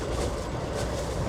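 Inside a moving train in Uzbekistan, a dense, steady rumble of wheels and carriage fills the space, with no distinct clacks or breaks and no voices.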